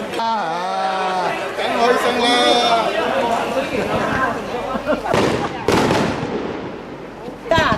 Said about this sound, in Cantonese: 酒店呢就今晚呢日光湖呢就有煙花表演啦